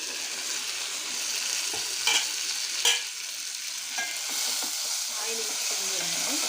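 Mint and curry leaves frying in oil over a high flame for tomato pachadi, a steady bright sizzle with a few stirring scrapes and clinks of the spoon against the pan.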